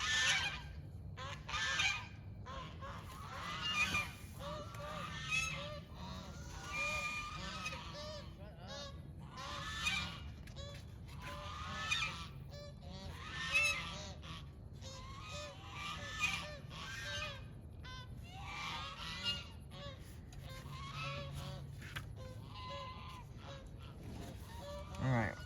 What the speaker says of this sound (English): In spite of the sound of the sad birds.